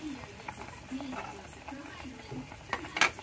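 Long chilies and eggplant stirred in a pan, with soft scraping and light sizzling, a few sharper clinks of a utensil against the pan near the end.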